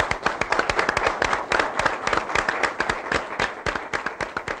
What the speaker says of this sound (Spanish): un aplauso para CBA 24 años